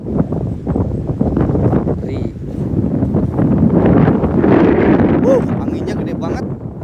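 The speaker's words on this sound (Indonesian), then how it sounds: "Anginnya gede banget." Strong wind gusting at a river mouth on the coast at Kebumen, a loud continuous roar buffeting the microphone, with a voice speaking over it partway through.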